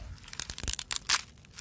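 A sledgehammer striking a TV screen's glass, which is covered by some sort of plastic layer, producing crunching, crackling and tearing sounds in uneven bursts, with a brighter crackle near the end, heard close up.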